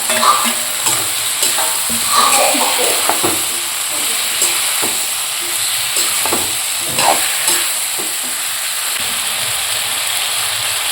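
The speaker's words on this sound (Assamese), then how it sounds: "এইখিনি ধুনীয়াকৈ ভাজি দিলোঁ" Food with tomatoes sizzles and fries steadily in a pan while a utensil scrapes and stirs through it in repeated strokes, close and fairly loud, with no voices.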